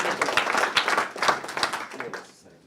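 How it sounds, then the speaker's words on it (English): Live audience at a business mastermind event clapping in a dense, steady burst of applause that stays loud for about two seconds and then quickly fades out. "Round of applause."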